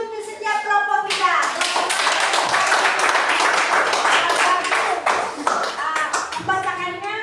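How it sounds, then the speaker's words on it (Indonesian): Schoolchildren in a classroom clap together for their groups: a sustained burst of dense, lively hand-claps that builds, holds for several seconds, then thins out, with children's voices heard before and after. "Tepuk tangan dulu untuk setiap kelompok kita."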